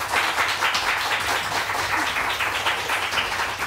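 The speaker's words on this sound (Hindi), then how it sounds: "अली के लिए बहुत सारी तालियां" A studio audience on a morning television show gives a steady round of applause for Ali Imran, moderately loud and unbroken, with no talking.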